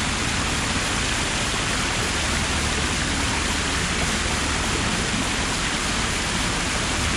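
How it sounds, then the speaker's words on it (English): Steady, loud rushing splash of a city water fountain in Sheffield, a continuous broadband hiss with no pauses, filling the scene from start to finish. "I don't know if you can hear me over the water, by the way."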